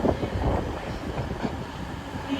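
An East Midlands train rolls into Newcastle station with a low, steady rumble, heard alone under faint wind noise at moderate distance.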